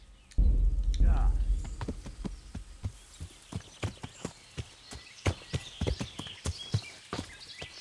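A horse's hooves clip-clop at a walking pace in the video game Kingdom Come Deliverance, moderately close sharp knocks in an uneven rhythm, with a short low rumble and a voice speaking near the start.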